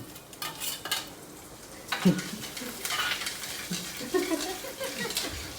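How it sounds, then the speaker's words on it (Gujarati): Ginger and garlic cloves fry in hot oil for a paneer chilli tempering, a soft sizzle broken by stirring scrapes and light utensil clinks against the pan. "અંદર આદુ અને લસણની કળી નાખી લસણની કળી તેલમાં તળી"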